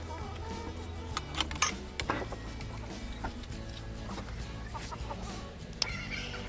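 Chickens cluck softly in a garden with raised beds, scattered faint clucks and scratching sounds amid low background noise.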